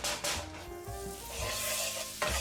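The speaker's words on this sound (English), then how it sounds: "he's going to fry up some shrimp" Shrimp frying in butter in a pan, a steady close sizzle with stirring scrapes and a brief tonal hum partway through, no voices.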